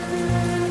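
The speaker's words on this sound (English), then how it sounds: "The night sky pours down rain like it has a personal grudge." Rain falls on city pavement in the video game World of Goo 2, a steady hiss of drops under sustained musical tones.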